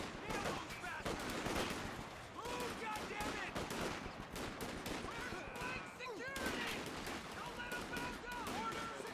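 Dense gunfire and machine-gun bursts in the World War II strategy game Company of Heroes 2, continuous overlapping shots and battle noise with someone talking over them.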